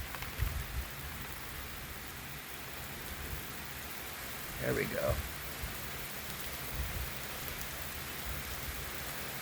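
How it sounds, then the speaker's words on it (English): Heavy summer downpour during a heatwave in Bath, Maine, steady broadband rain roaring close throughout, with low thunder rumbles early and near the end and brief talk in the middle. "Here cometh the rains."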